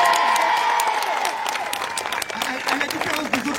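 A street show audience in Argelès-sur-Mer applauding and cheering after a breakdance battle: dense, steady clapping from a crowd with scattered shouts and voices mixed in throughout.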